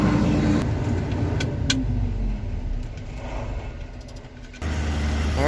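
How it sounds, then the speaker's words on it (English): Grain truck rolls away from a combine during a Canadian wheat harvest, a low engine rumble that fades as the vehicle departs, with a brief clatter near the start and the sound swelling again at the end. "There goes the second truck."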